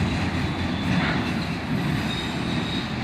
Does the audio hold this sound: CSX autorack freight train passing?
yes